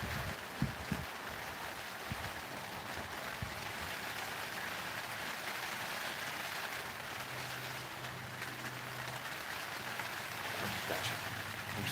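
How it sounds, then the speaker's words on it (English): Steady rain falls on a garden, a constant close hiss with a few brief knocks early on and a faint low hum later, with no voices. "It's just raining on this garden."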